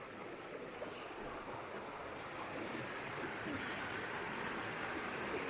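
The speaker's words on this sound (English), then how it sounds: "Just because of all the water rushing past." Water of the River Derwent rushes past in a steady, even wash of noise, fairly quiet and with no voices.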